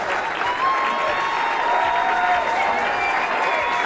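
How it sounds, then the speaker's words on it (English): An overflow crowd at a professional bowling final in suburban Denver, Colorado, rises in a sustained standing ovation, dense continuous applause with scattered cheers filling the hall at full volume. "the overflow crowd here in suburban Denver, Colorado, giving him a standing ovation"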